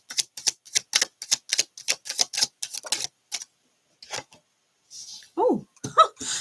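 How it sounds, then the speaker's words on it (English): Rapid riffling clatter of cards being shuffled, several quick bursts in a row, close and crisp, then a few scattered taps and a brief voice. "Just shuffle the shit out of that deck."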